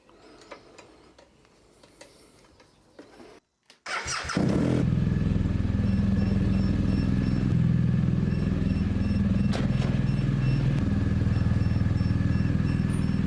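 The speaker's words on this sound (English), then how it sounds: "Once you turn the bike on, Thunderbox gives it power, it bleeps, and then they both flash." Motorcycle fitted with a radar-linked camera unit, quiet handling followed by a click as the bike switches on, then a steady loud engine drone with faint electronic bleeping ticks over it.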